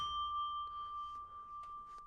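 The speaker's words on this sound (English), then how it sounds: "So here is the original Bell sample" A single sustained bell sample tone for drum and bass sound design in Phase Plant rings clearly and slowly decays, with a few faint metallic taps toward the end.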